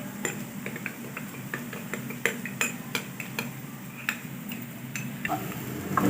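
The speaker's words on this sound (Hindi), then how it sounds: "दूध में डालेंगे 1 चम्मच कॉर्नफ्लावर, और अच्छे से मिक्स कर लेंगे।" A spoon stirring a teaspoon of cornflour into a cup of milk makes repeated light clinks and taps against the vessel in an irregular rhythm, close by, over faint kitchen background with no talking.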